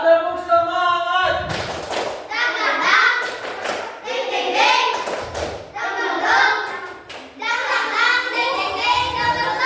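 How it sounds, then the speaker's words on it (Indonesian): A group of schoolchildren in a classroom performs a rhythmic tepuk semangat clapping chant, their sung voices punctuated by sharp, repeated group claps throughout. "Kelompok 3 tepuk semangat."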